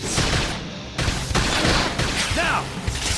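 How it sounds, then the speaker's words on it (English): Combat gunfire in Xenoblade Chronicles X bursts out in rapid volleys with sharp impacts and booms, mixed with game effects and overlapping voices. "gunfire!"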